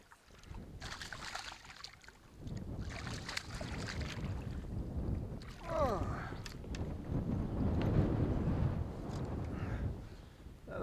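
Wind on a fishing boat out on the water, a steady rough gusting and buffeting against the microphone with hull and water noise underneath, rising in strength partway through, and no talking.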